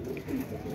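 A heavy-bodied pendu pigeon gives a brief, low, throaty coo, close and quiet, with faint background murmur.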